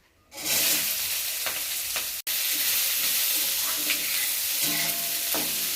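Chopped onion and chili hitting a hot pan with cumin and bay leaf, bursting into a loud, dense, continuous sizzle after a brief quiet start, with a few faint stirring scrapes and one sudden momentary break.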